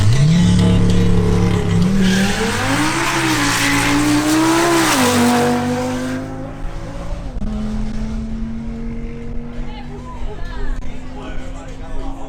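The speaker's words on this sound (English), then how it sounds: "Next, Maria Estrada in her Audi RS3 makes another run." An Audi RS3 launches on a drag strip, its engine revving hard and climbing through gears, loud and near before fading away into the distance as a commentator speaks over it.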